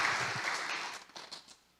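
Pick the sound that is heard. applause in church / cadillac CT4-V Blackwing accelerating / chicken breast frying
applause in church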